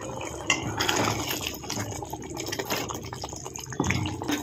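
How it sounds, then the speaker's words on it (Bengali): Mixed masala prawns with a little garam masala are stirred in a pan, giving soft wet scraping and occasional utensil clinks against the metal, fairly close and steady with no talking. "একটু নাড়িয়ে দেব।"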